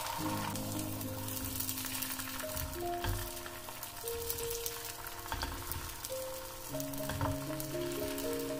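An omelette for fried rice fries in a pan with a steady, close sizzle and crackle throughout, while faint tonal music plays underneath.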